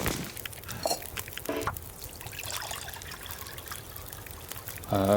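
Water trickles and pours in the video game The Road to BlackFrost, a steady watery dribble with short splashy bursts, close and moderately loud, with no one talking over it.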